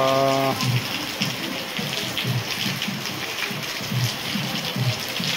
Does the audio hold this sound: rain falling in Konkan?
yes